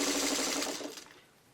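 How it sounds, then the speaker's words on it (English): A sewing machine stitches quilt block pieces for a Flock of Geese traditional block, a steady fast mechanical whir and rattle, close and loud, easing off toward the end. "And they're all going to go through the sewing machine the same way."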